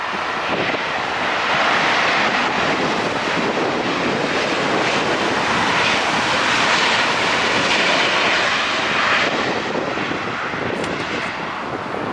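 A Southwest Airlines airliner landing at LAX, its engine roar and rushing air steady and loud across the whole stretch, with wind buffeting the microphone and no talk.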